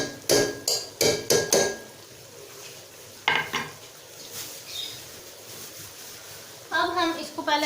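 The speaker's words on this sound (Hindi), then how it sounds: "अब हम इसको पहले अच्छी तरह से मिक्स कर लेंगे।" Ground coriander being stirred into bhindi masala in a pan, a run of quick scraping and clinking strokes of a spoon against metal, loud and close, with speech and a short spoken pause between bursts.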